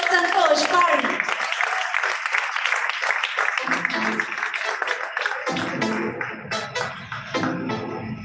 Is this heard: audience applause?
yes